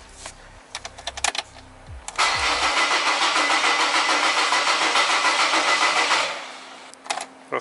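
A Mercedes ML W163 diesel engine cranks on a trial start: a few short clicks, then a steady, loud starter whir for about four seconds that stops without the engine catching, followed by a couple of faint knocks.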